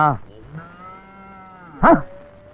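Cattle low nearby in a village setting, one drawn-out deep moo followed by a louder, rougher call near the end, heard alone without talking.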